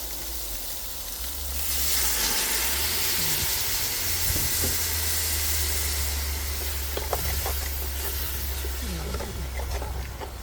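A loud burst of hissing sizzle and steam rises as a little water hits a hot pan of sautéing chicken, with scattered clinks of stirring.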